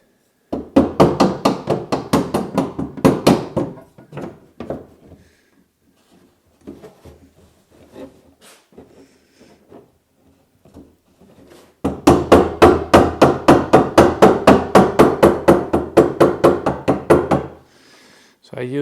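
Light hammer taps seat the rear wheel axle of a Bülk velomobile during maintenance, coming as two bursts of rapid, even knocks close by with quieter handling sounds between them.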